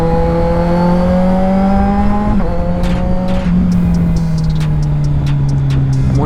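Motorcycle engine with an autoblipper revving sharply in quick blips during a downshift from sixth gear toward second, pitch stepping up and falling back with each shift, loud and close with no talking.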